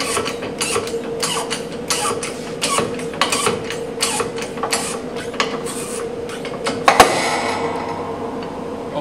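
A hydraulic press with a die cuts a copper sheet blank, with a steady run of regular mechanical clicks from the pumping, then a sharp loud crack near the end followed by a brief hiss.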